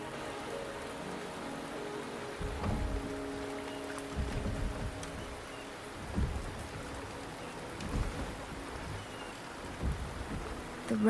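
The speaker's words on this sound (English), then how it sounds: "The rain is subsiding, and the sky will soon clear." Steady heavy rain pours in the video game Wuthering Waves, with low rumbles of thunder rolling through at intervals over the continuous downpour.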